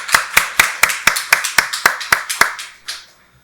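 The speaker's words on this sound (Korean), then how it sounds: "박수로 하나님께 영광 돌리겠습니다." A church congregation claps in a Sunday worship service, giving about eleven sharp, evenly spaced hand claps that ring close and loud, then a brief faint pause at the end.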